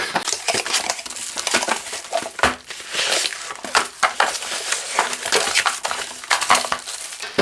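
Unboxing a Silvercrest SDG 950 D4 food steamer: a steady run of crinkling cardboard and plastic packaging, with crushing rustles and light clinks of parts being handled nearby, no speech.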